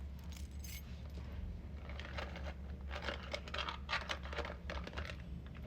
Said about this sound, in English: I have my car keys,